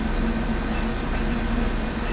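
Honing machine spinning at 125 RPM during a Ford 4R70W transmission rebuild, a steady, fairly quiet mechanical hum with a faint even whirring tone and no breaks.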